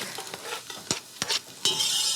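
Oil sizzles steadily in a pan of chopped onions and garlic, with a few sharp scraping stirs and clinks of a utensil cutting through the frying hiss.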